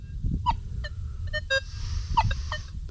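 A Nokta Makro Legend metal detector at speed 6 in M3 mode, hovering over a silver dime, gives several short beeps and chirps over faint background noise.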